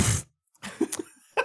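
A person's voice imitates a bird chick coughing up and spitting out food, giving a harsh burst followed by a few short gagging and spitting sounds, close and alone.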